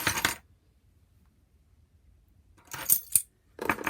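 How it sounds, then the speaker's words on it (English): Metallic clinks and jangles of small keys: a short burst at the start, a long quiet gap, then two more clattering bursts close to the microphone. "move some keys out of the way, so hopefully I won't make that horrible noise next time"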